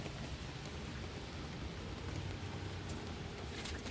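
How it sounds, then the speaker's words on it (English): Steady rain falls outside on a rainy morning, a dense even hiss with low rumble that stays constant and fairly near throughout, with no voices. "Because it's rainy outside."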